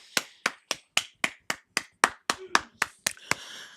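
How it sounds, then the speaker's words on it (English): A round of applause for the women wrestlers, made as a dozen sharp, evenly spaced hand claps close to the mic, ringing out alone in a quick steady rhythm. "round of applause for the ladies"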